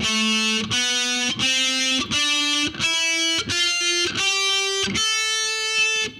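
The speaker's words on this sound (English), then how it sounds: "So that octave sounds like this." A heavily distorted heavy metal electric guitar plays an ascending octave scale, eight sustained notes rising step by step with brief breaks between them, loud and alone.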